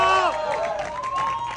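Applause and cheering at a birthday party after the candle is blown out, a short burst of clapping mixed with excited shouting voices.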